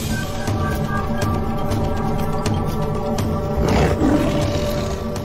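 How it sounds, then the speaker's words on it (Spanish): A lion lets out a deep, rumbling roar, loud and sustained over a dense, noisy background, and it swells toward the end. "El profundo atronar del rugido de un león se puede oír a 8 kilómetros de distancia."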